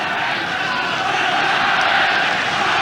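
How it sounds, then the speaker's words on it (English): A packed stadium crowd at the 1991 Rugby World Cup quarter-final between Ireland and Australia roars in a loud, continuous, unbroken wall of cheering, steady throughout, with commentary voices faintly mixed in. "Crowd absolutely ear-piercing."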